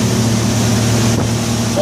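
Twin Yamaha 250 four-stroke outboards drive a 1993 Blackfin 29 Combi up onto plane, a loud steady engine drone with rushing water and wind noise, no talk.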